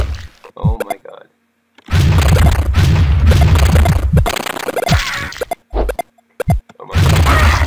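Bursts of gunfire and booming explosions sound from the 2007 game Open Liero X with Mario sound effects, loud and choppy with short gaps between, while a player talks over parts of the action.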